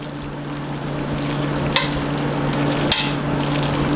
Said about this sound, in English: Get that all nice and stirred.